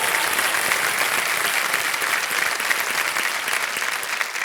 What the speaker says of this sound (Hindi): एक बार फिर जोरदार तालियां बजाएं के लिए